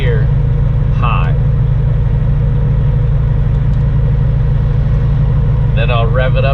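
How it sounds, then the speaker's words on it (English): A semi truck's diesel engine runs close and loud with a steady low rumble throughout, holding a strong idle-to-rev drone while someone talks over it in short bursts. "Then I'll rev it up to about 1500 RPMs"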